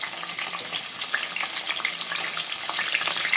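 Chopped onions frying in hot oil in a pan, a dense, even crackling sizzle, close and continuous, with no voices.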